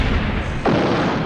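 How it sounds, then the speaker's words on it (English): A muffled explosion aboard a warship in a naval mutiny scene, heard as a single dull low thud that swells into a sustained rumbling roar, loud and close, filling the background throughout. "Then there was a muffled explosion."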